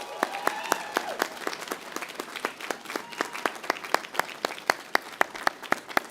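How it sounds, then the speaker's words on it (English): Audience at a university commencement ceremony applauding, with scattered sharp individual claps standing out over a steady patter of hands, moderately loud and continuing for several seconds without voices. "I think we need to give her another round of applause"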